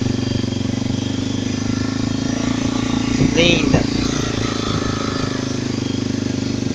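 A Honda XR 250 Tornado motorcycle engine runs at a steady idle close by, a continuous low putter with a brief swell midway, while someone speaks over it.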